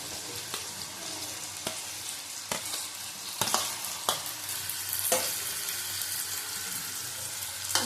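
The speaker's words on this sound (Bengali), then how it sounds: "ভালো করে আবার ভেজে নেব।" Potato and pointed gourd pieces frying in a pan, a steady soft sizzle punctuated by occasional sharp spatula scrapes and knocks, with no talking.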